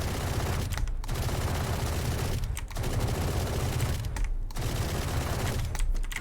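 An Ares machine gun fires in Valorant while aiming down sights, long sustained bursts of rapid loud gunfire broken by four short pauses, close and without speech.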